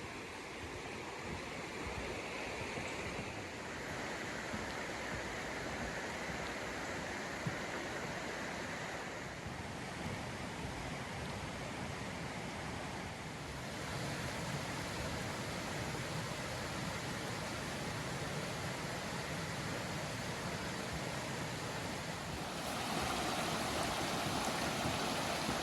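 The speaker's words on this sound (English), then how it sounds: "Here's some water running off the edge of the hill up there." Steady broadband rush of stormwater pouring off the edge of a hill beside a flat walking trail, a continuous distant roar with no distinct splashes and no voices.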